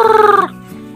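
A Rhode Island Red hen gives a short, close, loud cluck-like call, a brief rhythmic burst that drops away quickly into quieter murmuring.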